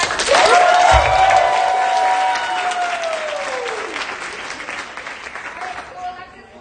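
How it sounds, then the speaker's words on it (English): Audience applause and cheering at an improv comedy show, loud and dense from the start with whoops and a drawn-out vocal cheer sliding over the clapping, then tapering off as voices linger. "can we get a round of applause"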